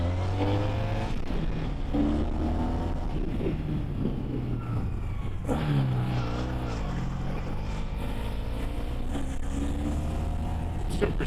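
A 1986 Honda VF1000R motorcycle engine pulls steadily up steep roads, a loud continuous drone with rising and falling revs as gears change, close and sustained throughout.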